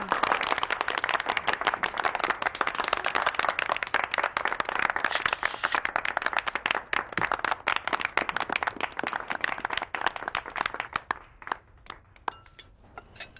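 Sustained applause from a crowd, many hands clapping steadily for several seconds before thinning out into scattered claps near the end.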